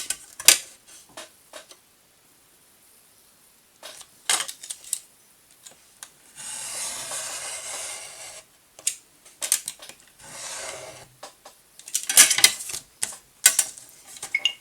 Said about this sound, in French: Et là c'est pareil, on va découper.